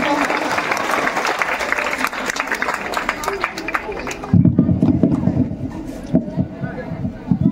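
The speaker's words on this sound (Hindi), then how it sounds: "और एक बार जोरदार तालियों से स्वागत कीजिए उनका" Loud crowd applause at a district-level competition results event greeting a village headman onto the stage, with sustained clapping that shifts partway through into heavier, closer claps and voices underneath.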